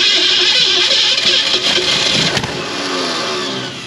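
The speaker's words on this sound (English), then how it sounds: "Got a pretty good misfire there" An abandoned 1967 Ford Mustang Fastback engine runs rough with a misfire, a loud, close, uneven roar that stays steady for a few seconds before easing slightly.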